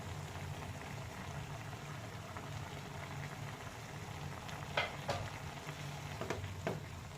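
Mawa is stirred into carrot halwa in a hot pan, giving a soft continuous sizzle. Several brief scrapes of the spoon against the pan break through it, with no talking.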